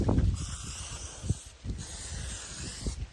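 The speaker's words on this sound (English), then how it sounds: "that's enough spray paint for one day" Spray paint can hissing in bursts, a broad airy spray that starts and stops several times with brief gaps, fairly close and steady between pauses.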